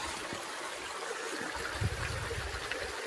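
Vastapur waterfall produces a soft, steady rush of flowing water, a continuous broadband hiss heard alone at low volume with no voices.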